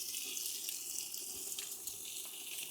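Water poured into a pot while preparing chicken biryani, a steady, fairly faint pouring and splashing flow with no talk over it.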